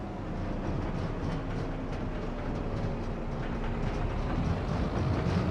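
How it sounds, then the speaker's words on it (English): A heavy freight train rolls by in a farming simulator game, a steady rumbling, clattering drone that stays loud and continuous throughout, with faint mechanical tones riding over it. "It is a heavy train this now."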